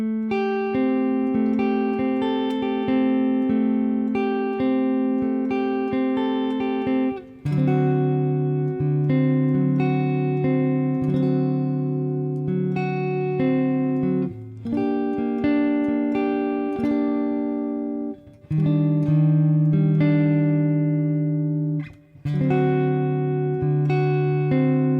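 Electric guitar plays the chorus of a song, arpeggiating sustained chords in a steady, loud, close phrase lasting the whole stretch, with brief dips between chord changes and no voice.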